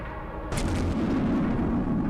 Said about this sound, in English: I just blew a hole in the wall.